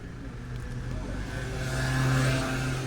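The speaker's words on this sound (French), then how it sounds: "Entre les bruits de voiture, les bruits de scooter, les gens dehors et tout le reste" A car engine revs up and accelerates nearby outside on a street, its pitch rising over a few seconds.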